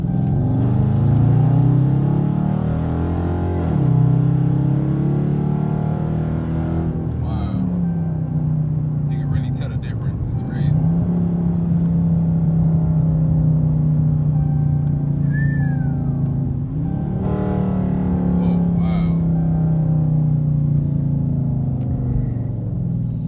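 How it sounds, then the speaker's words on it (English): A car with a K&N high-flow air filter intake, its engine droning and rising in revs as it accelerates, loud and close from inside the cabin, while someone talks over it. "The more I get on my car, like the more I get on the pedal, I can hear like that more air coming in, like the air box."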